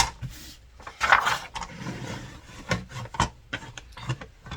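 Paper being trimmed for a paper petal Christmas ornament, with close, uneven rubbing and rasping cuts and rustles in short irregular bursts and no talk.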